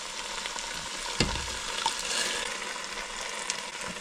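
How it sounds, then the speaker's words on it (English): Crushed tomato for a lasagna soup goes into a hot pot, a low thud and splash followed by a steady sizzle and the soft scraping of stirring, with no voices. "now I'm going to go ahead and add our crushed tomato"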